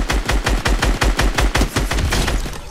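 Rapid automatic gunfire from a video game, a fast regular burst of loud sharp shots running for nearly three seconds, close and dominant with no talk.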